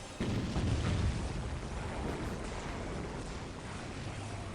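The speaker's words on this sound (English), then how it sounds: "Big explosions happening." A sustained, heavy rumbling roar of explosions in Warhammer 40,000: Dawn of War – Dark Crusade, loud and continuous with deep low-end booms that swell at the start and then hold steady.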